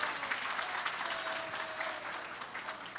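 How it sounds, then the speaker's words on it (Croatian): An audience at the Šumadijske igre village games in Kutlovo claps for presenter Kata, a dense and steady burst of applause that fades only slightly. "A još jedan aplauz za Katu našu."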